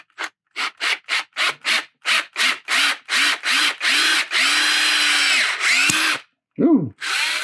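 A drill bores a big hole in a resin figure, sounding in a quick run of short close whirring bursts that stretch into a longer continuous grind, then stop and give way to a couple of brief squeaky rising tones.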